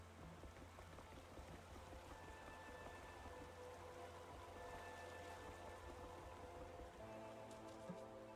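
Rainfall in the farming-sim video game Wylde Flowers, a very quiet, even hiss of falling rain with faint dripping and a low steady background hum, no voices present.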